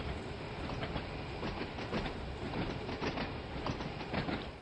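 Class 101 diesel multiple unit running in Train Sim World 2, a steady rumbling drone with rhythmic clickety-clack of wheels over rail joints, continuous and fairly close, no voices.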